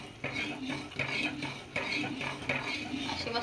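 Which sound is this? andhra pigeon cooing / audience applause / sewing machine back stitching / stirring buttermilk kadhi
stirring buttermilk kadhi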